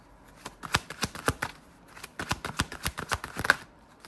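A deck of tarot cards is shuffled by hand, a rapid run of crisp slaps and riffles in quick bursts, close and with no voices.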